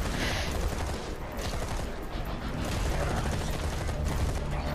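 Rapid, sustained turret gunfire in the zombie game Zombi, a dense, loud mechanical rattle of continuous shots filling the whole stretch with no pauses.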